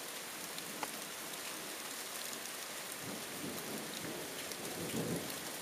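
Heavy nighttime rain falls steadily in a thunderstorm, with low rumbles of thunder rolling in during the latter half, moderately loud and continuous throughout.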